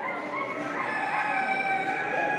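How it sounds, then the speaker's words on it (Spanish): A prize-winning white hen calls at the Castilblanco poultry fair, giving a steady, fairly loud run of harmonic, warbling cries that carries on without a break over a busy background. "Aquí hay un premiado, esta gallina,"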